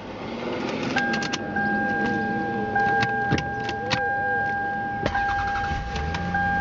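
A 1999 Lexus with 140,000 miles starts up inside the car, with a short cranking catch settling into a running engine, while steady electronic warning chimes beep repeatedly and a few clicks and clunks sound nearby.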